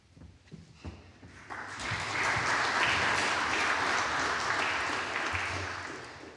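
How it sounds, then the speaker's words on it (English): An assembly audience breaks into applause after a speech, clapping swelling from a few scattered claps into a full, steady round that fades slightly toward the end. "I was just listening to the volume of applause"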